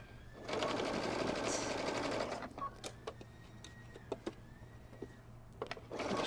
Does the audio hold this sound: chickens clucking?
no